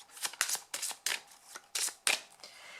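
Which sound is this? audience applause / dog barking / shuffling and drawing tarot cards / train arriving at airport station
shuffling and drawing tarot cards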